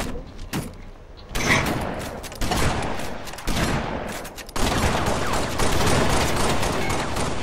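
Gunfire in a Halo Reach multiplayer match: dense, sustained bursts of weapon fire with some sharp blasts, loud and continuous through most of the stretch, with faint voices in places.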